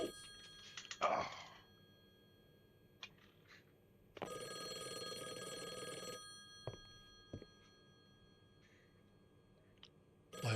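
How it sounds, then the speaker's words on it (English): A telephone rings in the video game Call of the Elder Gods: a short burst, then a longer sustained ring a few seconds later, alongside scattered clicks and soft background tones. "Let's answer that phone."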